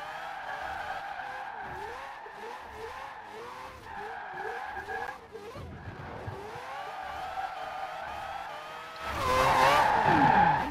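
A 2002 Mazda RX-7 Spirit R Type A drift build in Forza Horizon 4 holds a long slide, with a steady wailing rotary engine and continuous tyre squeal swelling into a louder, harsher screech at the end.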